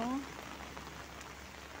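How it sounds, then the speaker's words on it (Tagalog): Steady Hong Kong black rainstorm rain hisses across a surface, a soft continuous patter after a brief faint whistle at the start. "Yan umuulan"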